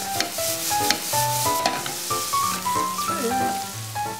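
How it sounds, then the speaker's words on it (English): Diced onions and beef sizzle together in a hot pan, stirred with regular scraping and tossing sounds, up close, while soft music plays underneath. "Add the diced onions and stir fry a bit more."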